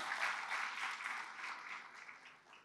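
Congregation at a Friday church service clapping hands together, a faint, fairly distant patter of steady applause that gradually thins out toward the end.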